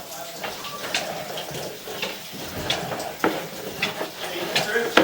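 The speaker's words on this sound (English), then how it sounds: "Now the water is starting to catch up." Water gurgling and trickling through a drain pipe just cleared of a blockage, with irregular splashes and knocks growing louder toward the end, fairly close.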